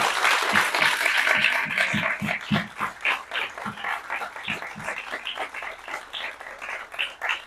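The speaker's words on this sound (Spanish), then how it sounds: "les pediría un aplauso para todos nuestros panelistas" Applause for panelists at a book presentation thins into scattered, uneven claps from a modest audience, moderately quiet with some room noise behind it.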